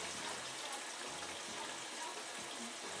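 Water rushes steadily into a Bosch washing machine under repair, a constant hissing flow that stays even in level throughout.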